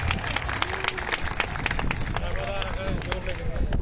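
An audience claps for performers taking the stage at an intellectual quiz club show during a flower festival, a dense sustained applause with crowd murmur and a voice over it.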